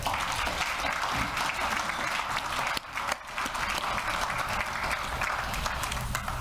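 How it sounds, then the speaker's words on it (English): A crowd applauding young students, broad continuous clapping that stays steady throughout with a brief dip partway through. "So how about a round of applause for them?"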